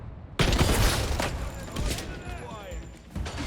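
Gunshots in a 007 video game: a sudden loud burst of rapid shots starting after a brief quiet moment, continuing in a dense volley that fades, with another shot near the end and a voice speaking over the gunfire.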